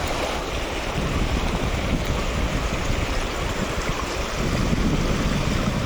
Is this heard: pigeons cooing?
no